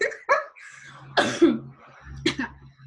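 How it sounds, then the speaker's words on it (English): A couple of sharp coughs and a throat clear, close and fairly quiet, with a faint low hum underneath. "I coughed, right?"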